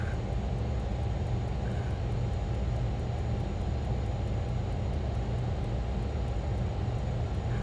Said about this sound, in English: So it looks like we have 2 running engines running on idle.